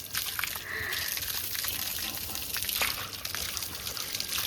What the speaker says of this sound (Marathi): असं उडव, पाणी उडव.